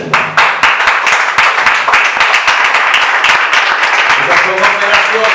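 A church congregation breaks into dense, loud applause honoring the Lord during a sermon, steady clapping filling the whole stretch with slight swells.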